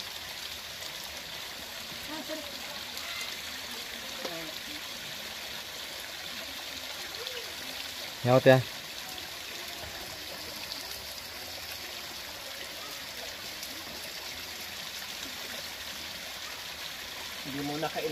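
Clear spring water flows in a mountain stream where Aeta people live, a steady, soft rushing and trickling that lasts throughout, with a brief voice partway through and quiet talk nearby.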